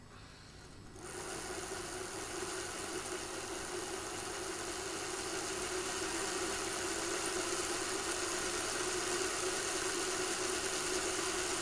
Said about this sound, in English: The locomotive's on the cradle, so we'll just start her up.